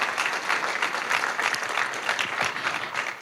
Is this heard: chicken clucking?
no